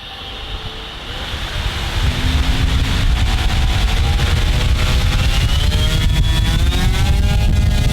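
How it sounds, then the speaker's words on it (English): Detrum Power10 3715 brushless motor on an RC model spinning up and running at full throttle, a loud rising whine that settles into a steady pulsating drone, close and alone. "we heard the motor pulsating"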